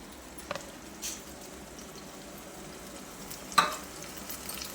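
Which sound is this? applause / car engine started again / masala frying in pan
masala frying in pan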